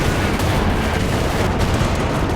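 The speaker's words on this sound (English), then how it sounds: "That was the AVRE's explosion there." An AVRE tank blows up amid a Company of Heroes 2 battle, a loud, dense roar of explosion and gunfire filling the whole stretch without pause.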